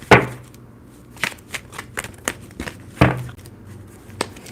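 Tarot cards being shuffled by hand, with irregular riffles and sharp snaps spaced across a few seconds, close and moderately loud.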